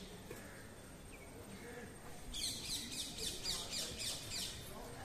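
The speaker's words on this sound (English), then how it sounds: "I heard the sounds of these many birds coming." Faint, rapid chirping from several birds begins partway through and continues in quick repeated bursts over a steady outdoor hush.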